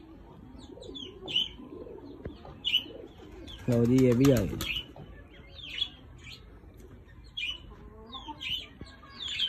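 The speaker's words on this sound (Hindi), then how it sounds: "इसराइली कबूतरी लम्मी चोंच वाली" Pet pigeons, including a long-beaked Israeli breed, coo softly in low repeated phrases mixed with brief chirps, while someone talks nearby and a short louder burst of calls cuts through midway.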